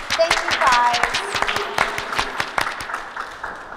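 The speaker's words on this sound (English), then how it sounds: "Can we give them a round of applause?" Audience applause for children who made rainbow drawings for a large rainbow wall, a short burst of scattered clapping with voices and cheering mixed in.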